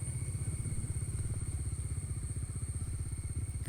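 Bajaj Dominar motorcycle ridden slowly through misty rain at Vagamon, its engine putting out a close, steady low-pitched thumping beat with constant hiss over it; no talking.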